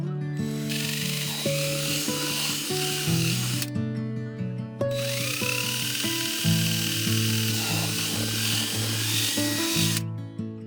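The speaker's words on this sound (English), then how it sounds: "I used a screw to start it, and then my drill bit to make it wider." A drill bit bores a hole through a slick plastic bucket, a loud high whining drone that runs in two long bursts separated by a short pause.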